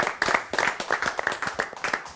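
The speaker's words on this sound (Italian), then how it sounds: "Facciamo l'applauso a Anthony e DJ." A small studio audience claps briefly with an uneven, fairly close rhythm during an Italian television talk show.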